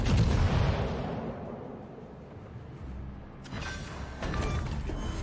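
A battleship in World of Warships fires armor-piercing shells at the cruiser Konigsberg, a heavy booming salvo up front that fades into a rumbling tail, followed by a few sharper distant impacts and clanks.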